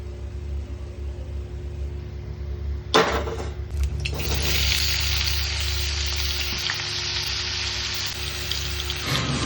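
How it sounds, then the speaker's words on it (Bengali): Cut potatoes drop into smoking-hot mustard oil in a wok, setting off a loud, dense sizzle that keeps frying steadily after a quiet low hum, with no voices. "কড়াইয়ে সর্ষের তেল দিয়ে বেশ ঝাঁঝালোভাবে গরম করে কাটা আলুগুলোকে ভেজে"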